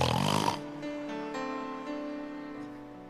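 A voice imitates loud snoring in a French-language sermon, a rough, rasping snort at first, then sliding into a steady droning tone that shifts pitch in steps like a vehicle changing gear.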